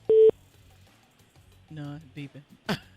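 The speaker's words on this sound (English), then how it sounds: "Beeping" A phone call on speaker opens with a short, loud electronic beep tone. Quieter tonal blips and brief voiced sounds follow, then a final burst of noise near the end.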